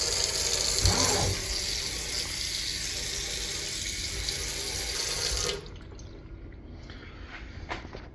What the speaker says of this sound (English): turn on the water, turn it off, on, off, on, off.